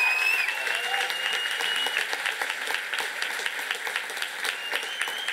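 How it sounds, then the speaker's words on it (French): A gala audience applauds steadily at a cultural awards night, dense clapping held at an even level throughout with a faint tone lingering in the background. "je pense qu'elle a besoin d'une main d'applaudissement une fois dans sa vie"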